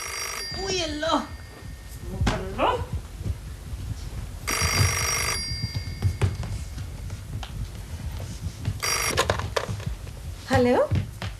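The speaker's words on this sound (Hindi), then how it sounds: "देखो किसका फोन आ गया इस वक्त" An old landline telephone rings in two separate bursts, one before and one after, set among people talking nearby in an indoor domestic scene from a 1990 Pakistani television drama.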